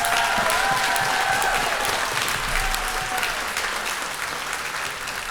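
An audience at an elementary school beginner band day claps for the young players, broad continuous applause with a few faint whoops, strong at first and slowly easing off.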